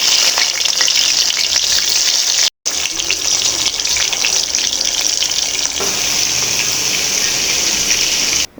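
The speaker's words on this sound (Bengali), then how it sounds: "আমি ইলিশ মাছটাও ভালো করে মেখে নিয়েছিলাম, বেগুনটাও মেখে নিয়েছি। সো এক এক করে সব ভেজে নিব" Hilsa fish and eggplant frying in a pan of hot oil, a loud continuous crackling sizzle close up, briefly interrupted once, with no talking.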